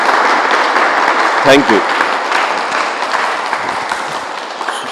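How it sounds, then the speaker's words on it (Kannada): An audience claps loudly for a guru after a meditation session at an ashram gathering, sustained dense applause with a brief voice heard over it. "ನಿಮಗೆ ಧ್ಯಾನ ನೀಡಿರೋ ಗುರುಗಳಿಗೆ ಜೋರಾಗಿ ಚಪ್ಪಾಳೆ ತಟ್ಟೆ ಅಭಿನಂದಿಸಿ"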